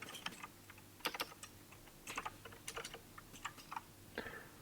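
Fingers type on a computer keyboard in short, irregular bursts of quiet, crisp key clicks, with no voices.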